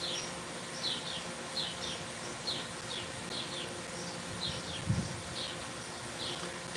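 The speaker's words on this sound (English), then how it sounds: "So can you hear the birds starting to sing this evening?" Birds sing at evening outdoors, with repeated high chirping phrases at a steady, moderate distance over a low background hum, joined by one brief louder low thump near the end.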